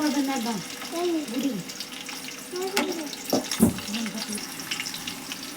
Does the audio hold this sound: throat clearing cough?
no